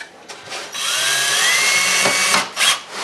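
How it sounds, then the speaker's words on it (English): A power drill drives screws into pilot holes in a wood cabinet, a loud close whining buzz with a couple of short bursts before and after a sustained run. "pilot these screws into those new holes that I drilled to get it ready"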